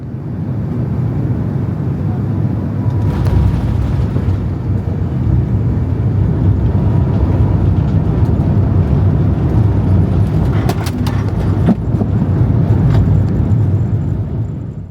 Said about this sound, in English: Now, time for the night landing into Osaka Kansai Airport.